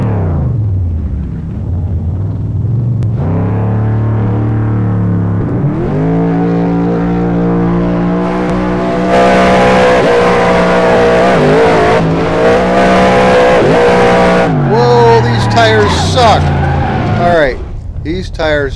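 A race car in a racing game drag race revs up through the gears, its engine note climbing and dropping in repeated sweeping pulls, loud and close, while someone talks over it.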